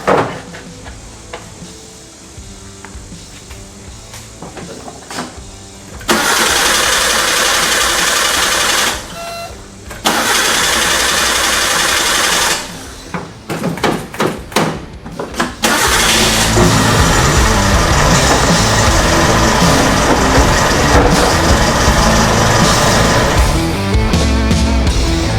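An engine on a budget build car cranks and catches in several uneven bursts, stalling between tries, then settles into a steady running idle with the clutch held down, loud and close.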